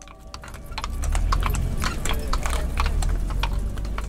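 Horse hooves clip-clopping on a Vienna street, a steady rhythmic run of sharp hoof strikes, close and fairly loud over low traffic rumble.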